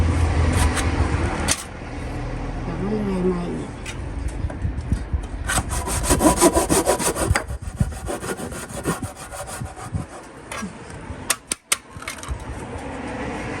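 A hand saw rasps steadily through a wooden fence post in repeated back-and-forth strokes, close and fairly loud, with a few knocks and pauses between bursts of cutting.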